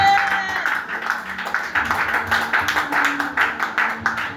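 A church congregation applauds to acclaim the Lord Jesus, breaking into steady rhythmic clapping that continues close and moderately loud over a faint sustained background tone.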